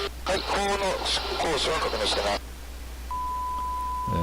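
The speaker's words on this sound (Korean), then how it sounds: "중간중간에 삐 소리를 또 해서 자기네들 말을 또 지웠어요" A person talks briefly, then after a pause a steady censor beep sounds, followed by the start of more speech.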